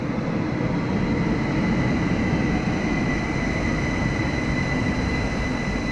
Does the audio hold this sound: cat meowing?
no